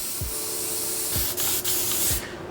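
A spray gun lays gray base coat onto a custom panel, a steady close broadband hiss running for about two seconds before cutting off, with a few soft low thumps underneath.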